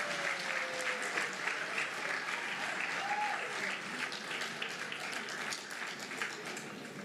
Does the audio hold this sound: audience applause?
yes